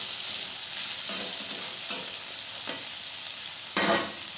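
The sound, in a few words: potatoes frying in a pan on medium flame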